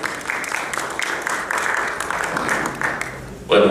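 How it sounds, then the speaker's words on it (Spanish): A lecture audience applauds a finance course on the economic analysis of taxes, a steady wash of clapping hands held at moderate loudness for several seconds before a louder burst at the end. "Por favor, recibámoslos con un fuerte aplauso."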